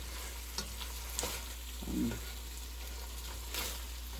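Crab pieces are stirred through cooking vegetables in a pot for a Caribbean coconut curry, soft scraping stirs and light sizzling at a low, close level, with a few sharper clicks of the spoon.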